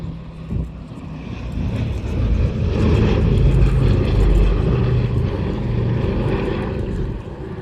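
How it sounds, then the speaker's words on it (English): A Dassault Rafale C fighter jet roars overhead at an airshow, its broad engine rumble swelling to a peak and then slowly easing off. "And here it is, the Dassault Rafale C."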